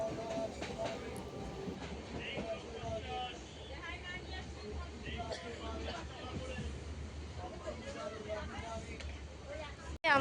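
Riding a metro train toward Park Street, the carriage rumbles steadily with clacking rails and a low drone, while people talk faintly in the background and a sharp knock comes at the end.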